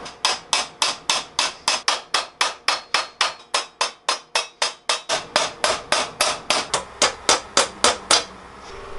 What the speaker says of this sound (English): I'm going to hammer these back so they're nice and flat